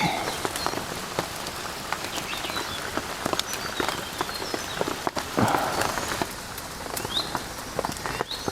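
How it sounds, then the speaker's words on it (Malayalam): Rain patters steadily on leaves and surfaces in a wild rainforest campsite, a dense close hiss broken by sharper individual drops, with no voices. "ഇപ്പോൾ കണ്ടോ, മഴ തോന്നുന്നു, വീണ്ടും വന്നു, വീണ്ടും തോരും, വീണ്ടും വരും"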